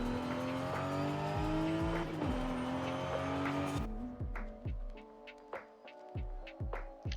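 A race car in the Forza Horizon video game roars at high revs with tire noise, then eases off into a series of shifting, rising and falling engine pulls.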